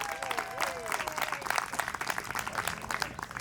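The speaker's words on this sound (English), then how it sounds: "Come on, everyone. Give me a round of applause." A small comedy showcase audience claps in a scattered, uneven way, fairly faint and thin, with crowd chatter and a voice mixed in throughout.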